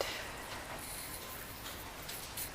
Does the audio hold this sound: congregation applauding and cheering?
no